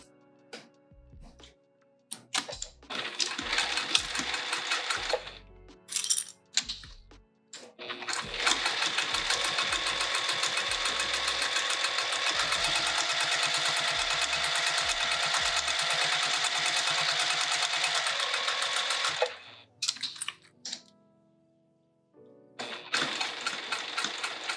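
A sewing machine top stitches a fabric pouch from a kit, running in short bursts that stop and start, then one long steady stretch of fast stitching before more brief starts and stops near the end.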